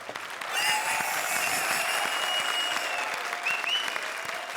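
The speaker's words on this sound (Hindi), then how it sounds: "चलो क्या तालियां बजा रहे हो" A studio audience at a comedy show breaks into loud, sustained applause, dense clapping that fills the space evenly with a bright music tone running faintly underneath.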